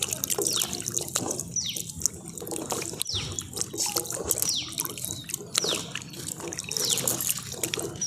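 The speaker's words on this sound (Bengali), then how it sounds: "এরপর এগুলোকে আমি পরিষ্কার করে ধুয়ে নিচ্ছি।" Sliced round carrot pieces are rinsed under a running kitchen tap, a steady close splash of water with repeated swishes and drips throughout.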